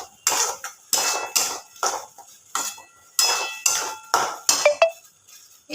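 Spice masala for soybean muitha, cooked with yogurt and tomato, is stirred hard in a pan over medium flame. A metal spatula makes repeated sharp scraping and clinking strokes in an uneven rhythm, loud and close, with no voices.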